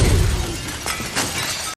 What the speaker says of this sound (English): Seriously, it's glass. You don't need a goddamn bomb to get through it.